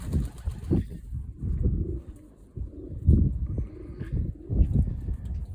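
Pigeons coo in low, throaty, repeated phrases close by, with soft rustling between the calls.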